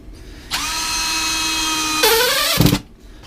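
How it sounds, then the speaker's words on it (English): Power drill driving screws into a workbench set up for welding during a Land Rover 110 sill repair: one steady high whine of about one and a half seconds, then a rising pitch and a short grinding burst as the screw seats, up close, no talk. "I'm just screwing a few screws into here"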